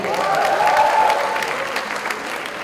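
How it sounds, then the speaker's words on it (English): A crowd at an inauguration ceremony for an edutainment show breaks into loud, sustained applause, a thick steady clatter of many hands, with a brief tonal ring early on that fades as the clapping continues. "big applause for yourselves"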